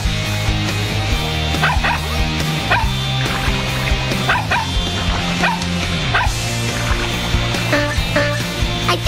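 A cartoon puppy from Bubble Guppies yips and barks repeatedly in quick, lively bursts, loud and close over a bright musical score.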